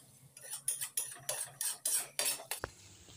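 Soybean curry with garam masala stirred in a pan, a series of about ten short scraping strokes of a utensil against the metal in an uneven rhythm, close and fairly quiet, ending in a sharp knock.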